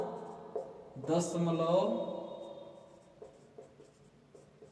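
Marker or chalk strokes scratch briefly on a board or paper during a Class 10 maths lesson on real numbers, a short rasp heard under a teacher's steady speech.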